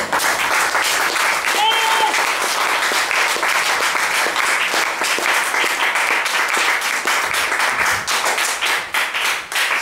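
A church congregation at a teaching service applauds and cheers to acclaim the Lord, with sustained rhythmic clapping from a large crowd and voices mixed in throughout.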